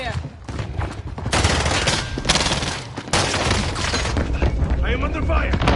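Heavy gunfire rattles in a Warzone quads match, with loud, close bursts and booms running almost without pause while players shout over the shooting.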